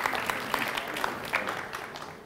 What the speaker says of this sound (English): I didn't have applause written here.